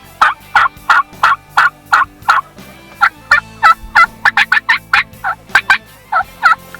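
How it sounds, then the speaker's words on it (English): Wild turkeys gobbling during a hunt, a rapid series of loud, clear gobbling bursts coming in quick rhythmic clusters, close by, with no talk over them. "They're right here behind us. still gobbling."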